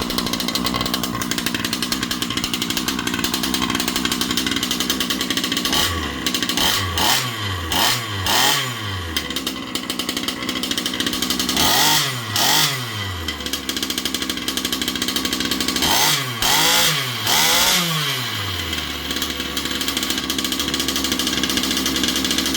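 A Rofun 360slt V5 two-stroke engine in a Losi 5B-style RC car idles with a raspy, chainsaw-like buzz, then blips loudly in several quick revving bursts, each rising and falling. The car is propped up with its tires spinning freely.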